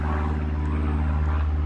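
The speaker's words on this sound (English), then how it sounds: "So excuse a noisy plane going overhead. It is low." Low propeller plane flying overhead during a walkaround of an Isuzu D-Max Utah Vision pickup, heard as a loud, steady droning engine hum with layered low tones that holds throughout, with no speech.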